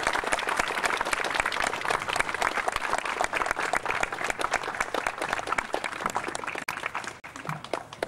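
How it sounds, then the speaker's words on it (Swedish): Audience at an event in Mönsterås, Kronobäck, breaks into sustained applause, dense clapping filling the whole stretch and thinning slightly toward the end. "ge dem en riktig applåd."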